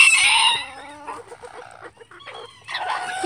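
Several chickens cluck and murmur close by, with a bright squawking call at the start and again at the end and softer clucks between, no talk.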